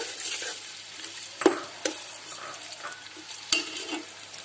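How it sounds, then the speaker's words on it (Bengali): Chopped onions frying in oil for a village-style country chicken biryani crackle in a steady sizzle, with occasional sharp spatula knocks against the pot and no talking. "এখন তেল দিল পেঁয়াজ কুচি দিচ্ছে"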